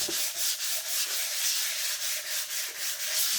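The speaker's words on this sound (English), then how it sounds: "Just keep it moving. Don't just rub in one spot." A sanding block worked by hand over fill primer on a VW Beetle body panel: a steady, close, gritty rasping in rhythmic back-and-forth strokes, roughly three per second, with no talking.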